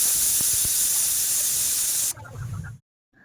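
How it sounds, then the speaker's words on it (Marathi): A kitchen pressure cooker holding paneer pulao lets out a loud, steady rush of hissing steam for about two seconds. The hiss cuts off abruptly, followed by a brief muffled rumble and then silence. "छान कुकरच्या शिट्ट्या झाल्या"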